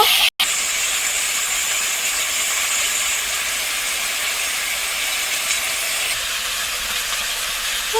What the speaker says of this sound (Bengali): পাঁচ ফোড়ন দিয়ে আলু দিয়ে দিয়েছি আলুটা ভেজে নেব